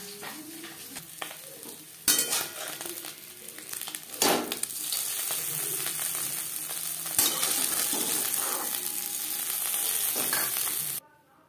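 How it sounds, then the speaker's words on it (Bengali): Chopped green chilies and diced tomato hit hot oil in a wok previously used to fry fish, giving a steady, close sizzle with scraping stirs and occasional sharp clatters of the spatula. "মাছ ভেজে নেওয়া কড়াইতে আবারও তেল দিয়েছি। দিয়ে দিলাম কাঁচা লঙ্কা আর টমেটো"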